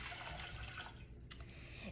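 About 1 1/4 cups of water pours into a bread machine pan for gluten-free bread, a soft, brief splashing trickle heard close by and alone.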